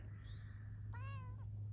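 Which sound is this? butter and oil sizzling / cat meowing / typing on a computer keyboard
cat meowing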